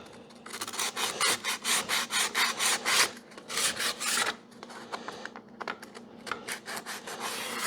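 Hand sanding of a wooden cremation urn gives rhythmic back-and-forth rasping strokes, close and moderately loud, in quick even bursts with a brief pause partway through and lighter strokes toward the end.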